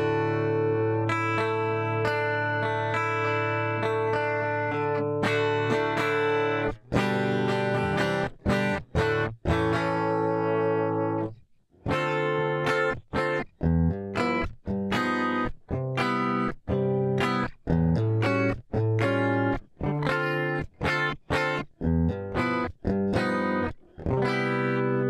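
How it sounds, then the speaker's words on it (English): Electric guitar played through a stereo delay on a Line 6 HX Stomp, sustained distorted chords followed by choppy rhythmic strums with repeats trailing after each hit, loud and close with no talking. "so here's a stereo delay"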